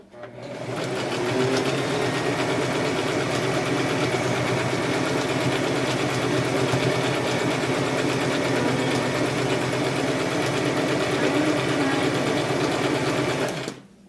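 A sewing machine top stitches a ruffle on a skirt, a steady, fast, continuous motor whir with rapid needle clatter running unbroken for about thirteen seconds at close range.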